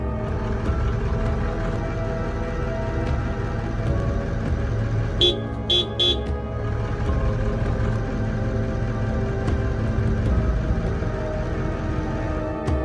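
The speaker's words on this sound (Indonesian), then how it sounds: "dan mencoba menakut-nakutinya dengan klakson mobil mereka" A car horn honks in a short cluster of blasts, sounded to drive off a lion at a campsite, rising briefly above a steady, loud rumble of vehicle engine noise.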